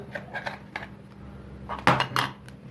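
The back cover of an Acura AC 9080 K talking digital blood pressure monitor is opened and four batteries are fitted, giving close, sparse plastic clicks and small metallic taps, including a sharper snap near the end.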